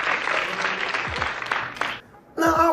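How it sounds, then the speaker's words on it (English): A crowd cheers and applauds loudly through a played TV scene, dense and sustained, breaking off briefly before a burst of voices and laughter at the end. "listen to what the crowd is doing. The crowd is going to sort of cheer for it."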